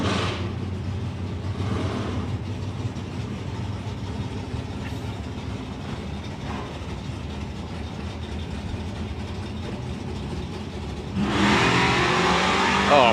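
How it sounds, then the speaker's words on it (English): Drag race cars at the STP Summer Nationals, including an old Omega and a Chevelle, roar steadily from a distance, then a louder, brighter engine surge launches near the end. "Oh, proper cocked up wheelie there for Guy King"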